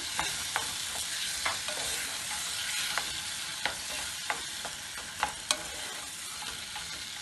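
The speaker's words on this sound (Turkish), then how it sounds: "Evet Salçam da kavruldu. Şimdi domateslerimi de içerisine atıyorum." Tomatoes are stirred into sizzling fried tomato paste for a saucy chicken dish, a steady close sizzle punctuated by regular scraping clicks of the spoon against the pan.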